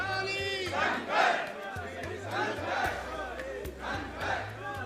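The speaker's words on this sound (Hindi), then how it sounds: "भारी भीड़ है जो हमारे पीछे है, और करौली शंकर के नारे लगाए जा रहे हैं" A large crowd at a Karauli Shankar gathering chants slogans in loud, repeated rhythmic surges, close and continuous, with little talk over it.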